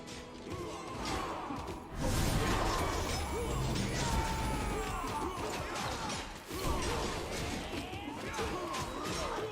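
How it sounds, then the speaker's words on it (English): Battle noise from above in the game Pathfinder: Wrath of the Righteous, a steady muffled din of crashes, clanks and whooshes with two heavier surges, continuous throughout. "You can hear the sounds of battle from above"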